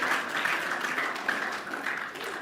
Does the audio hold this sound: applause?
yes